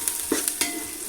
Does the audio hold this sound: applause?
no